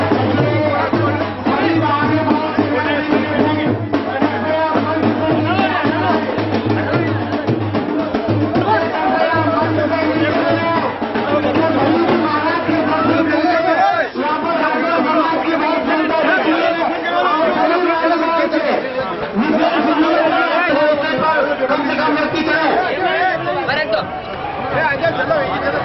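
Dense crowd chatter fills a packed dharamshala hall in Ratlam at a gathering with a religious guru, a steady loud babble of many overlapping voices continuing throughout, with someone talking over the noise.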